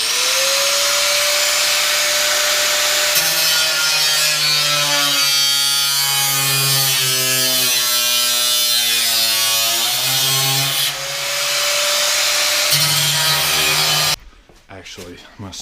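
A regular steel sheet is cut out to make a heat shield, a loud, close, steady mechanical whine that holds for about fourteen seconds and then stops abruptly.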